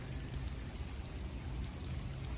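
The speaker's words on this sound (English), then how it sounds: "The rain has calmed down a little bit" Light rain falling steadily over a nursery garden after a heavy downpour, a soft, even hiss of drops with a low background rumble and no voices.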